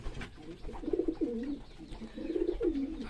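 Pigeons on a pigeon farm coo softly in two rolling bursts, fairly close, over a low background hum with no speech.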